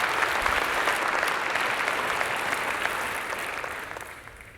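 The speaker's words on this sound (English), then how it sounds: "you deserve a round of applause" Crowd at a summit breaks into sustained applause, a dense, fairly loud wash of clapping that gradually fades over a few seconds.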